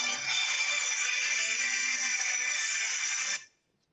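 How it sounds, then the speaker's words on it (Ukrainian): A phone ringtone rings during a remote interview, a steady bright electronic tone sounding continuously for several seconds before cutting off abruptly into silence. "Телефон у вас, так, пане Сергію, як я розумію?"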